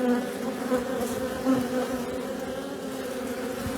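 A dense, steady hum of many honey bees swarming around exposed comb and brood inside a chimney, loud and close without break, with no voices.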